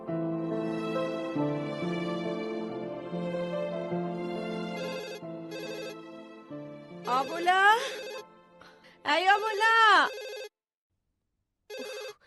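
A telephone rings with a steady melodic ringtone for several seconds indoors, then stops while a woman calls out loudly in short bursts.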